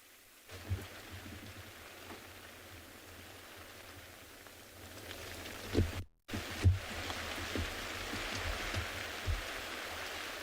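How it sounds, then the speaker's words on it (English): Heavy rain pours steadily during a morning safari drive in the South African bush, a broad continuous hiss with a brief cut-out near the middle and occasional louder gusts and thumps. "It is raining quite a bit now."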